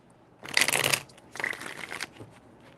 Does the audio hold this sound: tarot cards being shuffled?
yes